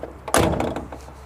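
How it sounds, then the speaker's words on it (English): A car door on a 1982 Ford Escort 1.3L Mk3 shuts with one loud metallic clang and a rattling thunk, the door mirror jiggling as the impact rings out and fades. "Yeah, it's a bit of a clang, not helped by the mirror bouncing around as it shuts"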